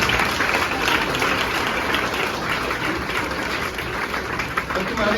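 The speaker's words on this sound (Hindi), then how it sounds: "जोरदार ताली।" Applause from an audience greeting a newly selected government drawing teacher, a dense, steady wash of clapping that fills the whole moment at close range without pause.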